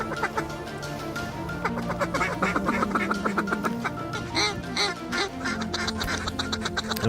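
Ducks quack repeatedly and loudly during a duck hunt, a dense overlapping chorus of calls with several birds close by and no talking.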